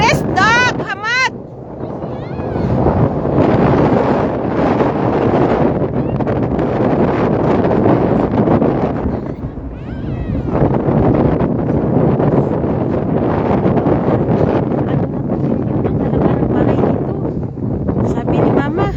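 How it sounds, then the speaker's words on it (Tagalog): Strong, cold outdoor wind buffets the microphone in a continuous rough roar that stays loud throughout, with people talking intermittently underneath. "Malakas ang hangin, ilak mo."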